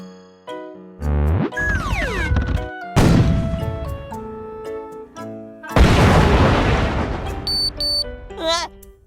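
A cartoon cannon fires in a parabola math animation, with several loud booming blasts and crashes mixed with sliding whistle tones and bright musical effects in a busy, loud sequence.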